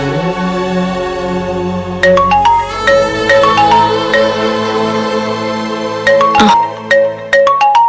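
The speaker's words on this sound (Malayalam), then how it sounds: "നന്ദനെ വിളിക്കുന്നേ. എടുക്ക്." A mobile phone ringtone for an incoming call plays a loud, repeating melodic chime pattern, alone and close by.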